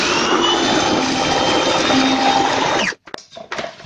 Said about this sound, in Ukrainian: І комбайн швидко і впевнено зробить свою справу.